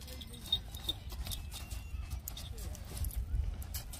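Hooves of a four-year-old piebald mare at a livestock fair, soft irregular clopping and scuffing close by amid crowd bustle and people talking, with a faint whinny-like call in the background.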